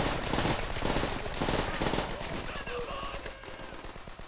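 Rapid automatic gunfire from a weapon in the Call of Duty: World at War video game, a dense, continuous burst of fast shots that stays loud throughout, with a busy battle mix around it.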